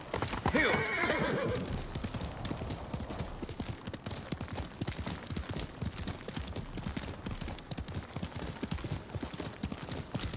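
A horse whinnies loudly at the start, followed by a steady, rhythmic clip-clop of hooves that continues throughout, in the video game Ghost of Tsushima.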